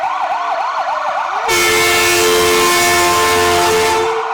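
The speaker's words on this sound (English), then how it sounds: "Quite the horn on that ambulance." At a Fourth of July parade in Akron, an ambulance siren wails in quick rising and falling sweeps, then a loud, sustained blast of a deep air horn takes over and holds, close and powerful.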